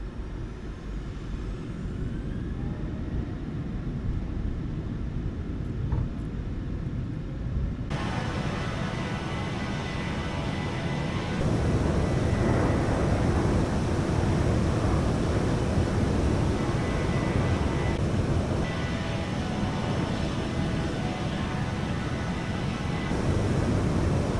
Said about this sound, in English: Set takeoff thrust. Thrust set.